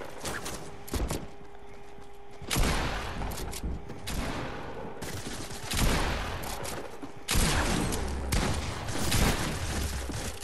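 Pump shotgun blasts in Fortnite, several loud, sharp bursts at irregular intervals, each with a brief decaying tail, separated by quieter game ambience.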